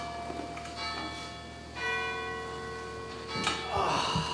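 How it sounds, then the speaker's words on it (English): A real bell rings at night in several slow, resonant strikes that hum and decay between hits, heard at a moderate distance with faint voices in the background. "Where the hell is there a bell at this hour?"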